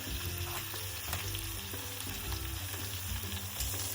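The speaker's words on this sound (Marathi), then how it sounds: "त्याच्यामध्ये ते मटण फ्राय करायचं" Mutton frying with ground dry masala in a pan gives a steady, close sizzle, with occasional stirring scrapes, and no talking.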